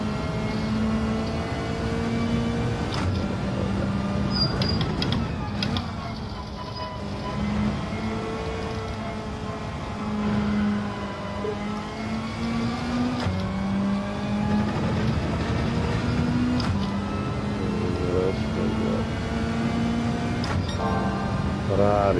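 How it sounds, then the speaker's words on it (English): A Ferrari Testarossa engine in a racing video game drones steadily, its revs rising and falling through repeated gear changes, with voices talking over it. "Ferrari Testarossa."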